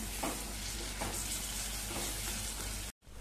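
Byadgi chilli powder and coriander are stirred into hot oil for a ridge gourd dish, making a loud, close, steady sizzle with faint stirring pulses that cuts off abruptly near the end.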